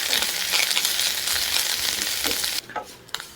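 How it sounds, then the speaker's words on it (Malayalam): Curry leaves crisping in hot oil as a vegetarian curry cooks, a close, bright crackling sizzle with stirring that cuts off sharply, leaving a few light clinks and faint hissing. "കറിവേപ്പില നന്നായിട്ട് വറുത്തെടുക്കണം,"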